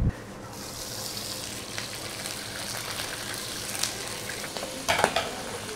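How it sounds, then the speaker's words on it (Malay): Steady sizzling of shrimp frying in a pan for salted egg shrimp spaghetti, with a few brief clinks and scrapes near the end. "Udang digoreng dulu bang Kita goreng"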